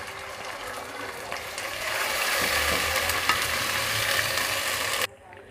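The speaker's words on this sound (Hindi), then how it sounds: "तब हम इसको हल्का गोल्डन होने तक फ्राई करेंगे।" Sliced onions sizzle in hot oil with garlic ginger paste while being stirred, a dense steady crackle with scraping from the spoon that cuts off abruptly near the end.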